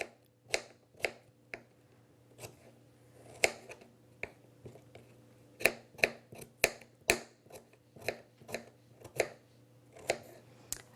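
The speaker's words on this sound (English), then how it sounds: "even while I'm chopping these up, you can tell they're very firm, great color." A knife chops firm fresh radishes on a board in a steady series of sharp, close, crisp cuts, irregularly spaced but frequent, with a faint background hum and no talking.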